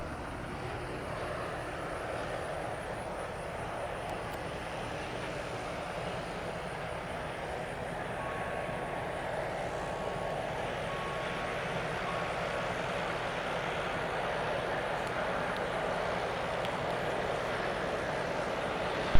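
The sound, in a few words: small aircraft landing at airport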